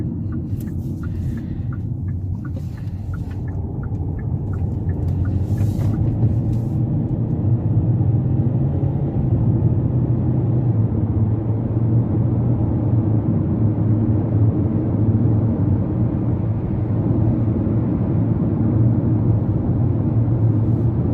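A 2023 Kia Seltos on the move, with a steady, loud low rumble of engine and road noise that holds evenly throughout, plus a few faint ticks and rattles near the start.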